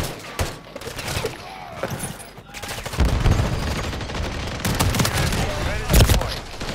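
Rapid gunfire from a Call of Duty match crackles in dense bursts and single loud shots, with booming impacts and game effects layered throughout the round.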